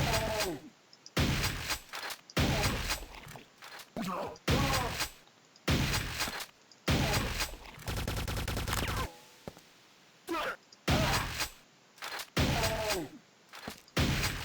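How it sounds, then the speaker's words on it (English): Shotgun blasts in Quake 2, a dozen or so loud, punchy shots fired one after another with short gaps, plus a stretch of sustained rapid fire in the middle. "Let me switch to the shotgun, I think."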